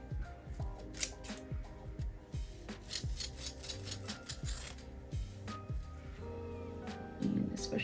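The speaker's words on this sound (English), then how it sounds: "I think I'm gonna take my scissors and just kind of do the rest of this, just adding some more layers." Scissors snip through layers of a synthetic lace-front wig unit in a series of close, crisp, irregular cuts, some faint handling noise in between.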